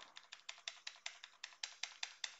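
Rapid, steady keystrokes on a computer keyboard, about a dozen crisp clicks in quick succession, close up with no talking.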